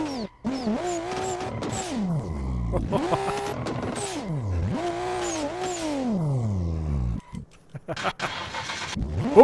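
Simulated RB26DETT engine in a 1965 Ford Falcon inside the racing game SLRR, loudly cranking and catching, then revving in rising and falling sweeps before abruptly cutting out as it stalls, followed by brief scattered clicks and noise.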